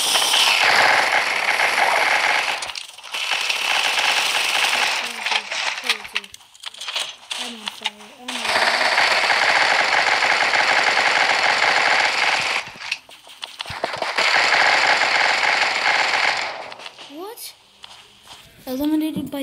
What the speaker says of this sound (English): Oh, another machine gun.